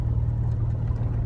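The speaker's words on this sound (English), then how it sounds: "You keep it revving, then slowly let off the clutch." Manual car engine held at steady revs while the clutch is eased out, a continuous low, even drone with no break and no talk.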